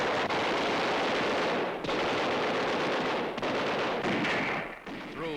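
Heavy gunfire from the 1945 battle for Manila crackles in dense, continuous bursts, loud and close, with short gaps and booming shots throughout, as on an old wartime newsreel soundtrack.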